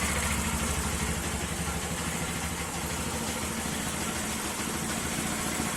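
A Romet K125 FI motorcycle engine idles with a steady low, throbbing rumble that wavers slightly before stalling, close and continuous with no voices.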